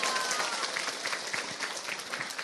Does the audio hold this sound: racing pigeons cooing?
no